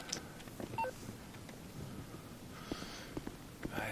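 A phone is dialed in GTA V Online, giving a quiet series of short electronic keypad beeps at irregular intervals, with faint background noise between the tones.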